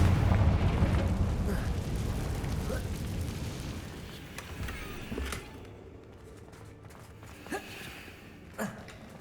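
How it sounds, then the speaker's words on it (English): A Confringo spell explodes in Hogwarts Legacy, a heavy, rumbling blast that loudly fills the opening seconds and then fades into a decaying rumble, followed by a few small thuds and clacks. "Confringo."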